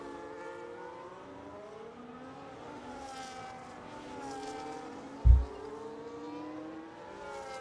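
A Ferrari Formula 1 car engine in a racing video game at the Great Britain Grand Prix, a high whining engine tone rising and falling steadily throughout, with one short low thump near the end and no talking.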